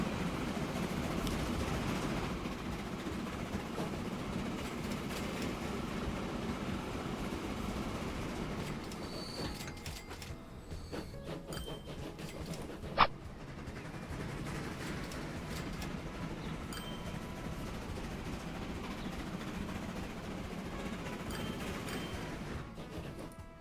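A freight train rolls past in the Transport Fever 2 simulation, a continuous rumbling clatter of wagons with occasional wheel squeal and one sharp metallic ping midway, steady and moderately loud throughout.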